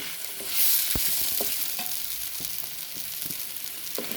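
Tawa pulao ingredients, with a little sugar added, fry in a pan: a soft, steady sizzle under sharp intermittent clicks and scrapes of stirring, close but fairly quiet, and no speech.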